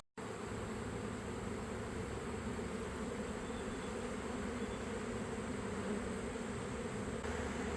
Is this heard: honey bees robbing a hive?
yes